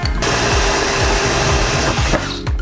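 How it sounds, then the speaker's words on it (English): A power drill whirs continuously at high speed, grinding steadily through a pot for a couple of seconds before winding down. "let's get drilling. Put the drill bit into the drill."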